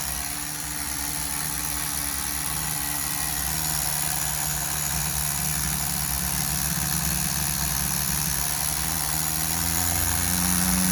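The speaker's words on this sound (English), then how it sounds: "Listen to that idle, baby." A Tamiya TGS-R nitro RC engine idles steadily on its run-in tank, a loud, constant buzzing drone heard close up and alone.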